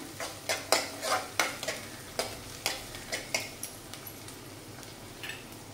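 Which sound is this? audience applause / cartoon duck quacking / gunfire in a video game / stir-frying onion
stir-frying onion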